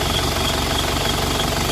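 An Isuzu Panther diesel engine idles at a raised speed after an RPM adjustment, a steady, close, knocking rumble that holds unchanged throughout.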